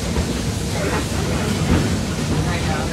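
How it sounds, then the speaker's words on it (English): A steam train rolls along its rails in a steady, loud rumble and hiss, and a voice may be talking beneath it. "There are some who say that this steam train is a little old-fashioned"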